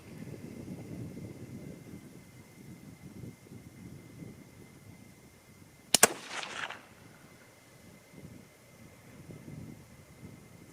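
A single sharp rifle shot from a UPR-15 chambered in 6mm ARC during load testing at a range, one loud crack at mid-clip with a short decaying tail over steady outdoor wind noise.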